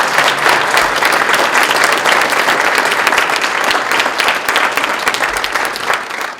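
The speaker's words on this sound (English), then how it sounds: "let's give these elected officials, your elected officials, a big round of applause" Sustained, dense applause from a crowd at a 2020 Westland inauguration ceremony for elected officials, loud and steady throughout, without talk on top.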